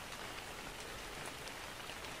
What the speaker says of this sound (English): This rain is horrible. I can barely see.